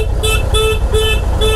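Road traffic on the way to Manali, with a car horn honking four times in an even rhythm, loud and close over a rumbling engine and road noise.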